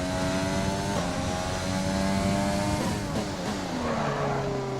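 Formula One car engine screaming through a qualifying lap in the racing game F1 2020, a loud continuous high-pitched whine rising and dropping with gear shifts, with no talk over it.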